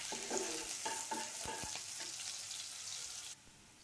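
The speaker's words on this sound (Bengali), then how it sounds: "হালকা হাতে সব কিছু আবার একটু নেড়ে চেড়ে ভেজে নেব" Onion and chili frying in oil while being stirred, a steady sizzle with several scraping strokes of a spoon against the pan, close and fairly loud, ending in a quieter hiss.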